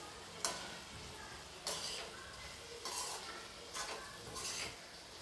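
A spoon stirs cooked pumpkin sabzi made without onion or garlic in a pan: four or five distinct scraping swirls, each with a soft sizzle, spaced about a second apart and fairly quiet, with no speech.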